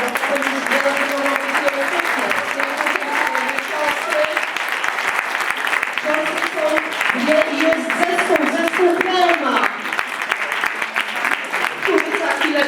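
Applause from the audience at an awards ceremony for a regional integrative nativity-play showcase, with steady broadband clapping throughout and voices talking over it.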